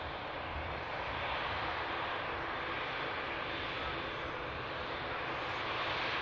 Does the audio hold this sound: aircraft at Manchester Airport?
yes